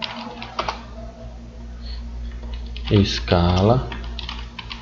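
Computer keyboard typing while entering text in AutoCAD, a run of quick light key clicks near the mic, with someone speaking briefly over part of it.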